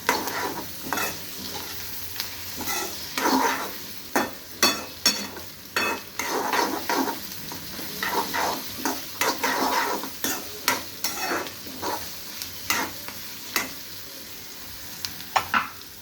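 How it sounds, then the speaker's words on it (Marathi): Onions and tomatoes sizzle steadily in a hot pan while a spoon scrapes and stirs in repeated strokes, close and clear throughout. "आता ह्याच्यामध्येच मी टोमॅटो पण घालून घेणार आहे. ते पण सगळे एकत्र मिक्स करून घेणार आहे."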